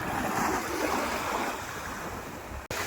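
Sea waves wash onto the shore in a steady, close rushing roar mixed with wind buffeting the microphone, with no talking.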